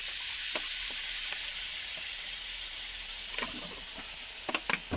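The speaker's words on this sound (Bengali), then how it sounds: "এইভাবে আমি ঝুড়িগুলো ভেজে নেব" Besan batter strands for jhuri frying in hot oil, a constant bright hiss with scattered pops and a few clinks toward the end, no voices.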